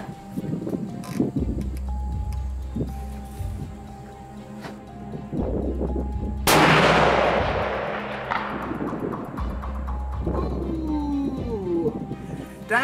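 A single loud rifle shot while sighting in a rifle fitted with a Swarovski optic, a sharp crack with a long decaying boom outdoors, preceded by handling noises and followed by quieter rustling.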